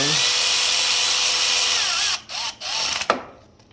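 A power tool whirs steadily while tightening the starter bolts on a Honda ATV, then stops and restarts in short bursts, ending with a sharp click and fading spin-down, close and loud.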